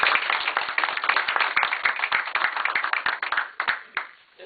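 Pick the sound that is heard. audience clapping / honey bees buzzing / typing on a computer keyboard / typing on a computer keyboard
audience clapping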